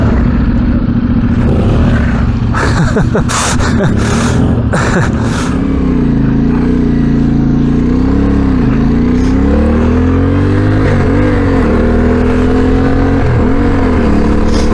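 A CF Moto 450MT adventure motorcycle, fitted with crash bars, a bash plate and a taller screen, idles and then revs, its engine note rising and falling steadily. Gusty wind buffeting and a few knocks come before the engine note.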